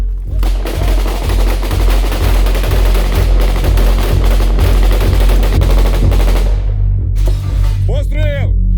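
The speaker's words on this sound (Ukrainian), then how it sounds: "Постріл!" Sustained automatic gunfire from soldiers of a special operations unit in combat, a loud rapid string of shots that rolls on for several seconds, then stops, followed by a short burst of noise and a shout.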